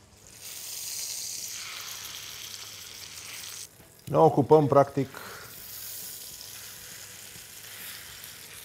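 Pork tenderloin sears in a hot frying pan, a burst of loud sizzling about a second long rising over steady background hiss, with someone talking quietly before and after it.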